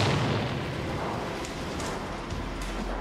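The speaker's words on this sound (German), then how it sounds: "haben sie unten eine Explosion gezündet, die sich dann durch diese Attrappe durchfrisst." Special-effects explosion set off beneath a dummy prop for a film shot, a continuous loud broadband roar with heavy low rumble held across the whole span, no voices.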